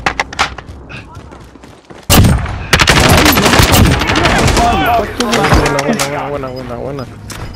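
Gunfire in Call of Duty Modern Warfare, starting with scattered shots and then erupting into loud, dense bursts of automatic fire, close and continuous, with voices talking over it.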